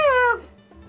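A house cat gives a single clear, drawn-out meow indoors near a TV and desk, rising then falling before it cuts off into quiet room tone.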